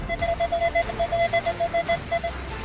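A metal detector on a beach at the wet and dry sand line emits quick, steady repeated beeps in a rapid pulsing rhythm, over a rough wind-like background noise.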